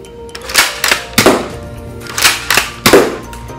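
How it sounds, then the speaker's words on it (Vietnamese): Close, hollow thunks come from an S570 foam dart blaster with a 40-dart drum firing in semi-auto mode, two quick bursts of three shots each separated by a short pause. "Bây giờ mình sẽ thử bắn ở chế độ thường, chế độ semi ha."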